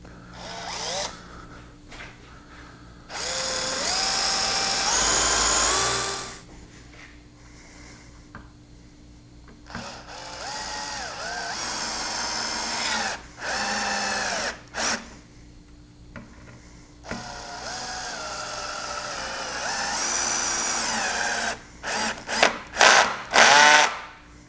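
A power drill bores pilot holes into a small wooden stile of a fretwork console table, with several bursts of rising and falling motor whine. Between the bursts there are short pauses and light handling clatter.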